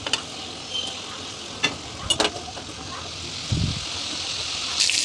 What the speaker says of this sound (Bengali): ঢাকনাটা তুলে উল্টে পাল্টে ভেজে নিতে হবে।